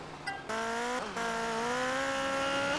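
Car in GTA Vice City Stories drifting, with a loud sustained tire squeal whose pitch wavers and climbs, broken by a short gap as the slide resets, set over a low engine hum.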